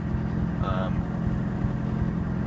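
A steady, low diesel engine idle from a Mk1 VW Rabbit rumbles continuously throughout, with a brief faint voice-like sound partway through.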